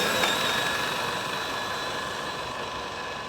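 Traxxas X-Maxx RC trucks on 8S power drag racing side by side, giving a steady, fairly faint motor whine and rushing noise that slowly fades as they pull away.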